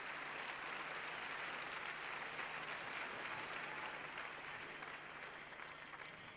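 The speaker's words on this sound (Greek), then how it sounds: "Η αίθουσα χειροκροτεί." An audience in the hall at the 1990 Eurovision Song Contest applauds, a dense, steady wash of clapping that holds for several seconds and eases slightly toward the end.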